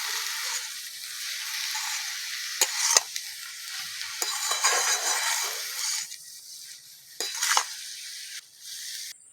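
Potatoes and red amaranth greens frying with spices in a pan, a soft steady sizzle broken by a few stirring scrapes and light utensil knocks.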